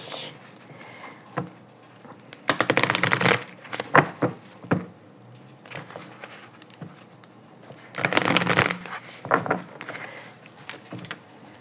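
A deck of tarot cards shuffled and cut for a reading, with bursts of riffling and soft card slaps in short clusters, close and fairly quiet, with no talk.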